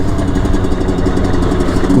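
A Derbi 50 cc motorcycle engine runs steadily at a loud, close idle, a continuous buzzing drone with no speech over it.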